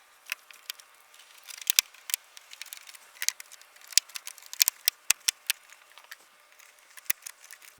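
Scissors trim plastic trim pieces during a car stereo install in an Audi, producing many quick, crisp snips and clicks in an irregular rhythm, close and fairly quiet.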